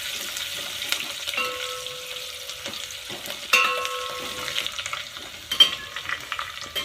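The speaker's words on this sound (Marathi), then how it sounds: "एक कांदा कापून घेतलेला आहे बारीक, कांदा असा छान लालसर परतून घेऊ।" Finely chopped onion sautés in a pan until reddish, with a steady sizzle under occasional scraping stirs and a couple of sharper utensil clicks.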